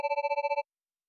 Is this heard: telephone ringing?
yes